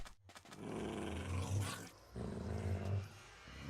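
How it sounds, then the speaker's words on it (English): A dog growls low and rumbling in two long bursts separated by a short pause, close and fairly loud, with no speech. "Why are you growling at me?"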